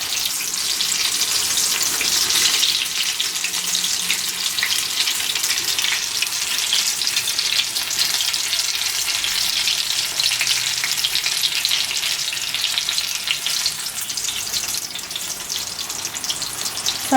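Chiles rellenos in egg batter frying in oil after being flipped, a dense, continuous bright sizzle and crackle close up, steady throughout with no talking.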